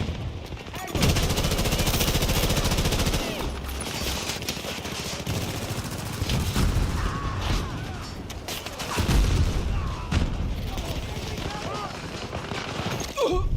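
Heavy gunfire from a Battlefield 2042 match, dense bursts and booming shots layered over one another across a chaotic battlefield, loud throughout with a voice talking underneath.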